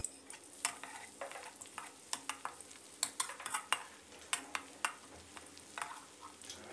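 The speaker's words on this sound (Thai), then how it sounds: "ใส่พริกกระเทียมโขกหยาบตามชอบได้เลยนะครับผัดให้แตกกลิ่นหอมเลยนะครับ" Coarsely pounded chili and garlic are stir-fried in oil for an eggplant and minced pork dish. A quiet sizzle runs under frequent sharp clicks and scrapes of a spatula against the pan.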